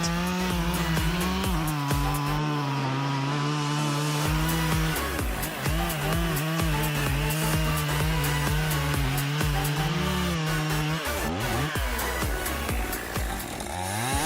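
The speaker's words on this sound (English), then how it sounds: "the Husqvarna 55 handles large logs with ease, demonstrating the cutting ability that sets it apart" A Husqvarna 55 chainsaw with a 50cc engine cuts through large logs, its engine whining loud and steady close by, pitch dipping and recovering as the chain bites into the wood, with no talking.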